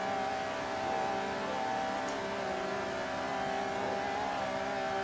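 Steady engine whine from a Le Mans-tuned race car at speed on a straight in a racing game, a constant, moderately quiet drone with little change in pitch.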